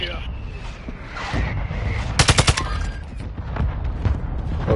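Video game gunfire during a multiplayer firefight, with a tight cluster of sharp, loud shots bursting out near the middle, set against continuous battle noise while players talk over it.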